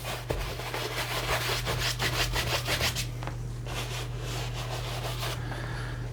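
A paintbrush scrubbing wet oil paint onto canvas in a wet-on-wet landscape painting, close rhythmic rasping strokes that slow and fade toward the end, over a steady low hum.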